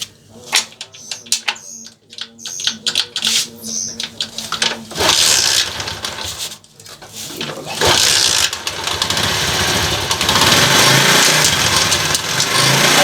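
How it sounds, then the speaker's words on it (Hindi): A motorcycle engine with a front sprocket fault running close by, sputtering unevenly at first and then settling into a steady, loud rumble. "तो दोस्तों मोटरसाइकिल स्टार्ट हो गया"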